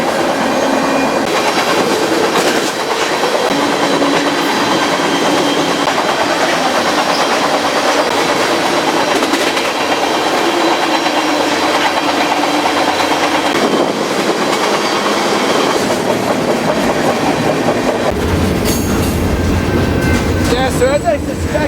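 A freight train rumbles past nearby, wheels clattering and squealing on the rails in a continuous loud roar throughout.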